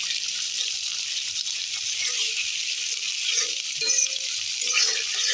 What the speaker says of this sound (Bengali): পেঁয়াজ কুচিটা দিয়ে নেড়ে চেড়ে লাল করে দেব